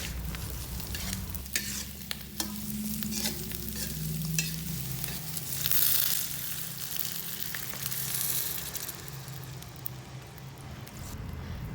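Tempeh sizzling in a pan with wilted chilies after water is added, a continuous loud bubbling hiss with scattered clicks of a utensil stirring, close and steady throughout, no speech.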